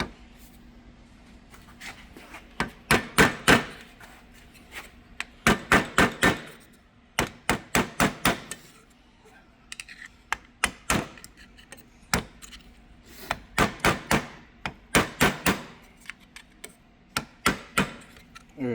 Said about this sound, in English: Kind of hammer it down a little bit.